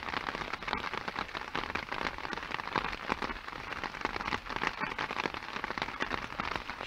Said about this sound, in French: vous avez la pluie,